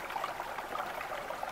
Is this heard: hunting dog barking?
no